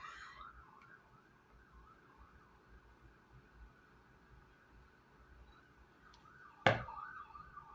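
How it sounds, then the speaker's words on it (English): An ambulance siren wails faintly in the distance, rising and falling repeatedly, followed by a sudden loud knock near the end. "Y'all hear the ambulance?"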